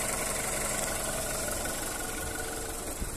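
A recently serviced VW Polo 1.4 petrol automatic engine idles steadily nearby with a smooth, even hum and slight vibration, no voices.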